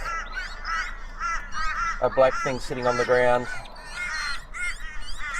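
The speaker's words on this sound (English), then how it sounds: "The crows don't like it because it's one of their mates, and the other birds don't like it because it's crows." Crows caw outdoors in loud, agitated calls, several birds repeating harsh caws close by, with someone talking over them.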